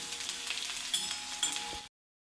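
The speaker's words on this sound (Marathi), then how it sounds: "थोडंसं परतवू।" Salted onions sauté in a pan with a close, steady sizzle and a couple of stirring scrapes. The sound stops abruptly just before the end.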